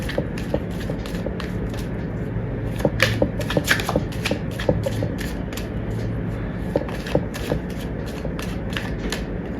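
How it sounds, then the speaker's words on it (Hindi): Tarot cards shuffled and drawn from a deck in a quiet indoor room, a steady run of soft, close papery flicks and snaps repeating quickly with no one talking. "एक कार्ड और लेते हैं"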